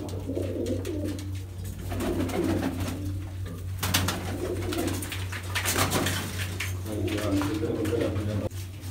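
Several pigeons, including blue pigeons, coo in repeated low rolling phrases against a steady low hum, with the calls coming in clusters close by across the whole stretch.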